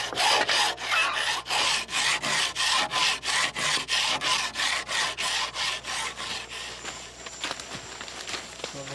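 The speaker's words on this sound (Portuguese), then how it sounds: "lixando cascas de coco, das quais irá fazer um colar de contas" Rhythmic rasping strokes of coconut shell being sanded for necklace beads, about two per second, close and steady, then tapering into quieter scraping.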